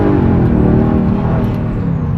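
A Mercedes C43 AMG with a swapped M113 V8 pulling hard, a loud, dense, continuous engine roar held close throughout with no talking over it.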